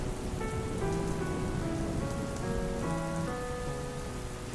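Steady, even rainfall in a cartoon sound effect pours continuously at moderate volume, with soft sustained musical tones playing underneath.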